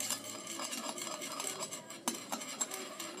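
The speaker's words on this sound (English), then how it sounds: "as soon as this melts, you can take your knife and stir this around a little bit" A knife stirs melting wax in a small container for double-layer wax samples, making soft, faint scraping and clinking taps with a few sharper knocks late on.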